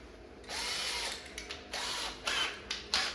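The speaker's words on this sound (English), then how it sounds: "let's countersink these holes" A power drill countersinks holes in a cocktail arcade table build, whirring in a long burst followed by several short pulses that end in sharp bites, close and fairly quiet with no talk.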